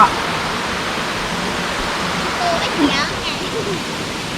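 Steady rushing water pours down Sang Chan Waterfall in Thailand, which drops through a hole in the rock, a broad even roar that fills the scene with no pauses.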